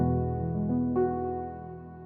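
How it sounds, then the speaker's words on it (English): A sustained chord on a Keys Classic Piano software plugin rings out and slowly decays, with a couple of soft notes added partway through; quiet, no voices. "Very beautiful sound, and it's called Keys Classic Piano."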